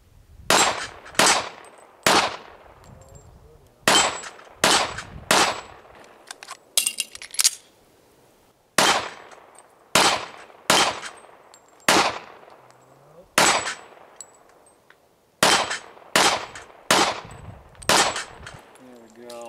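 A .40 caliber handgun fires at steel targets in quick strings of sharp, loud shots, each crack followed by a short metallic ring, with brief pauses between bursts.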